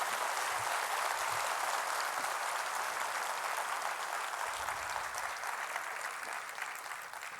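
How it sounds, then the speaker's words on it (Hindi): A crowd at a New Delhi International Yoga Day speech at FICCI House gives a long, sustained round of applause. The dense clapping holds loud and steady, then begins to taper off toward the end. "एक बार तालियां बजाकर उनका अभिनंदन किया जाना चाहिए"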